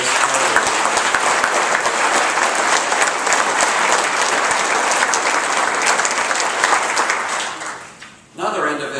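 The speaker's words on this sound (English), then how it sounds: "please give Dan a round of applause for his work" Banquet guests at a military officer-candidate reunion break into strong, dense applause that runs steadily for several seconds, then fades out abruptly near the end as a room sound returns.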